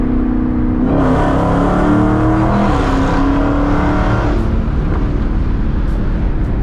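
A 2016 Dodge Challenger Hellcat V8 rumbles and revs up in a rising roar, then settles into a throaty idle, close and continuous.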